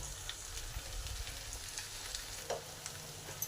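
A paste of cashew, white sesame and poppy seed ground with milk fries together with potato and pointed gourd, giving a soft, steady sizzle with faint scraping stirs throughout, fairly quiet and close, with no talking.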